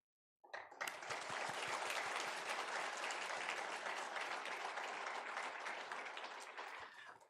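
A church congregation at a Sunday service gives sustained applause for a departing pastor, a dense, even roar of many hands that starts suddenly and continues for several seconds, heard alone without speech.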